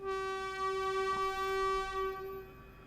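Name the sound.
train and train horn in video game Train Sim World 4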